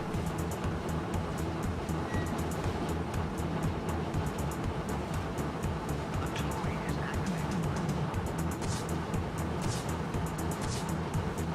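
German Baureihe 86 steam locomotive working at full throttle, heard from the cab as a loud, continuous rumbling roar with rapid rhythmic chuffing and rail clatter throughout, no voices.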